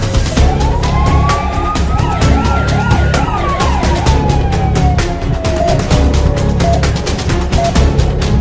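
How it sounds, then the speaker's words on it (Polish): A loud, close ambulance siren on signal cycles through rapid yelping whoops and a long rising-then-falling wail, layered over a constant vehicle roar, with no voices. "Jak można nie przepuścić karetki na sygnale?"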